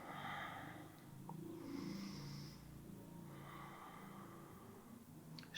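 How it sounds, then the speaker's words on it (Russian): Slow, deep yoga breaths at home, soft airy inhales and exhales drawn out over several seconds, close and fairly quiet with no talk. "И 3 глубоких дыхания."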